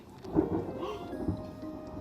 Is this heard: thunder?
yes